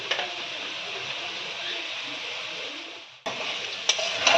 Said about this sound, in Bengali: আলুটা আমরা কিছুক্ষণ ভেজে নিয়েছি এবার দিয়ে দিচ্ছি আমরা হলুদের গুঁড়ো আর দিয়ে দেবো হাফ চামচ মতন লবণ